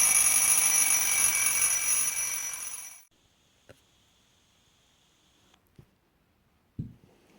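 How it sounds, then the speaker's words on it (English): A loud, continuous alarm clock ring lasts about three seconds and then cuts off abruptly, leaving near silence broken by a few soft clicks and thumps. "It's 7 o'clock, and J.P. Baedeker's alarm clock is ringing"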